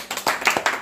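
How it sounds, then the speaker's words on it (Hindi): A crowd claps during a jalebi-eating challenge, a run of sharp, fairly close hand claps in an uneven rhythm, heard on their own without talk. "ताली बजाइए, ताली"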